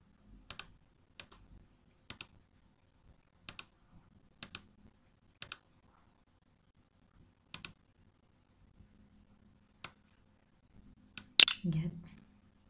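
Sparse computer mouse clicks, single sharp ticks spaced a second or so apart in a quiet room, ending in a louder cluster of clicks and rustle. A voice is faintly present.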